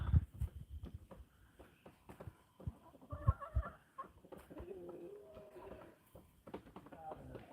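Chickens cluck and a rooster calls in bursts around a yard, fairly faint, with scattered soft bird sounds and light background noise.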